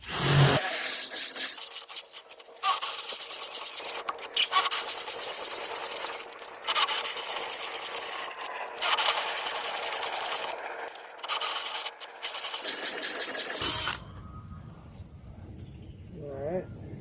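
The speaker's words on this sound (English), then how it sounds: "Just drill you some holes in there." A power drill with a 3/4-inch bit whines and bores holes into a tree stump in repeated bursts of a few seconds each, with short pauses between, loud and close; it stops near the end.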